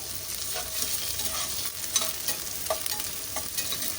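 Tripe and tomato stirred in a hot pan, a steady close sizzle and frying hiss running throughout with occasional scrapes and clinks of the spoon against the pan.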